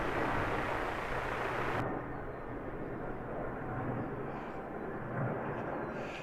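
An airliner passes overhead on approach to Heathrow Airport, making a broad, steady roar that stays fairly loud throughout. Its sharper hiss drops away partway through, leaving a deep lingering rumble with no talking.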